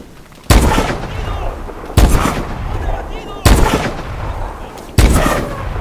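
Four heavy, booming shots go off at even intervals in Call of Duty: Advanced Warfare, each a loud close blast trailing into a rumbling decay, with faint voices underneath.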